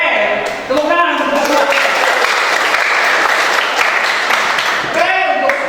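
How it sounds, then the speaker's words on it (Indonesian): A classroom of students claps together in sustained applause at their teacher's prompt, a dense, loud patter filling the room with voices calling out at the start and end. "tepuk tangan"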